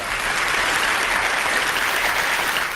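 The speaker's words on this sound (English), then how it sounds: "A little round of applause for you." A steady burst of dense clapping from a crowd lasts about three seconds, with no voices over it, marking the end of a Formula 1 racing league series.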